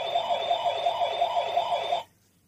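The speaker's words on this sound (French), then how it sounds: "Voiture de police." An electronic police car siren from a children's musical sound book wails in a fast, steady warble for about two seconds, then cuts off abruptly into silence.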